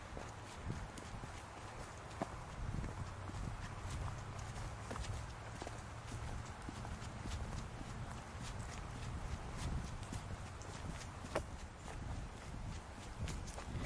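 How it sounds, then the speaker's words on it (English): Footsteps walking steadily nearby, a continuous rhythmic series of soft taps and crunches repeating throughout at a moderate, even pace with no talking. "I keep hearing footsteps."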